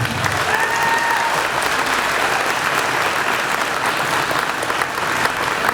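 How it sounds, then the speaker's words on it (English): Steady, dense applause from a sizeable crowd, sustained at an even level throughout with no pauses. "Let's give them a round of applause."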